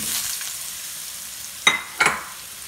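Raw banana pieces dropped into hot oil seasoned with asafoetida: a steady soft sizzle, then two sharp splashing crackles as the pieces hit the pan, close and fairly quiet with no talk.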